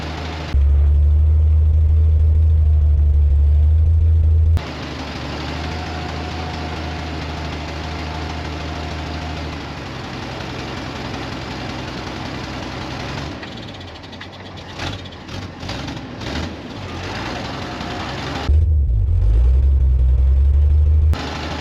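Jeep J-10 pickup truck engine idling loudly, then pulling away through freshly wet mud with steady rumbling strain and some irregular knocking bursts, before a loud idle returns near the end.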